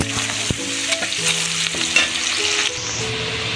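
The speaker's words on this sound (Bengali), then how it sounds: "পেঁয়াজ কুচি দিয়ে দিলাম দিয়ে ভালো করে নাড়াচাড়া করে নেব" Chopped onion fries in an oiled pan for a Bengali pangas fish curry, a steady loud sizzle with scraping stir strokes and a few sharp clanks of the spatula against the pan, no voices.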